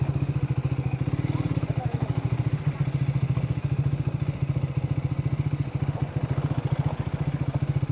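Motorcycle riding into the Gir forest toward Sasan, a steady rapid engine thump throughout, close and continuous, with a voice talking over it.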